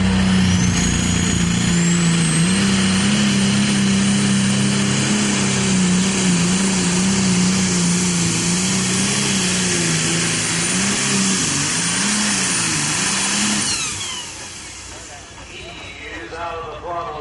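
A diesel super stock pulling tractor at an NTPA pull in Wilmington, Ohio screams at full throttle with a loud, sustained droning roar and whining turbo, then drops off sharply as the throttle closes near the end.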